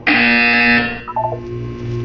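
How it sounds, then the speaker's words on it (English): A loud, steady electronic buzzer from the video game Portal 2 sounds for about three quarters of a second, followed by a softer chiming tone sequence and a low lingering hum. "When you hear the buzzer, look down at the floor."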